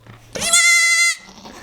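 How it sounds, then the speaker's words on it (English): Baby goats bleat in one loud, sustained, wavering cry lasting about a second, close to the listener, with quieter farmyard background before and after. "Because you love little baby goats."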